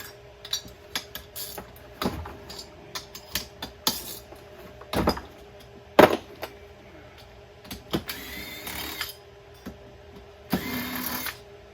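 Driver loosening the cylinder bolts on a Stihl 462 chainsaw with the cylinder exposed, heard as scattered close metallic clicks and ratcheting ticks with brief clanks and scraping, fairly quiet and without voices.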